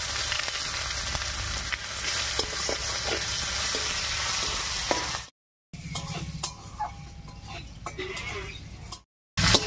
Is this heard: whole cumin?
yes